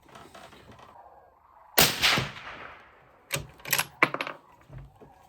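A suppressed 25 Creedmoor rifle firing 135-grain hybrid bullets on a calm day: a sharp muffled report rings out, followed moments later by a cluster of quicker cracks and a dull thump, with no voices.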